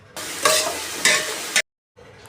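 Salted onion and tomato fry in a pan, with two short bursts of sizzling and stirring, then a brief silence before the sizzle resumes more quietly.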